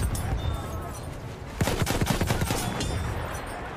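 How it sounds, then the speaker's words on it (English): A field gun fires in the Battlefield 1 video game: a sharp burst of heavy reports and crackling impacts breaks out partway through, over a low rumbling battlefield background. "This field gun's amazing."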